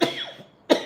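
Two sharp, close coughs from a man in the middle of a coughing fit, one at the start and another after a short pause, loud and harsh with no speech.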